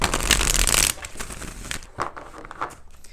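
Playing cards are riffle-shuffled in a loud crisp burst, followed by softer taps and rustles as the deck is squared up.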